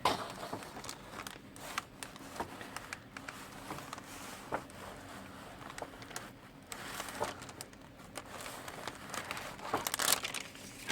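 Parchment paper is handled and crinkled during a melted-crayon art tutorial, a steady run of close, dry rustles and crackles with sharper crinkly bursts near the end, no talking.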